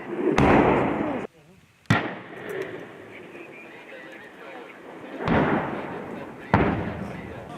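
Gunfire on the front line near Avdiivka: several sharp, loud blasts crack out at irregular intervals, each trailing into a rumbling echo, while people talk.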